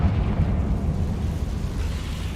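A Confringo blasting spell in the Hogwarts Legacy video game goes off as a deep, rumbling explosion that holds steady and loud for a couple of seconds.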